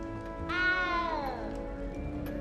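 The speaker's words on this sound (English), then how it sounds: "You don't need to be frightened, little cat." A cat in the video game Hogwarts Legacy gives a single drawn-out, falling meow, clear and close, with quiet background ambience and no speech.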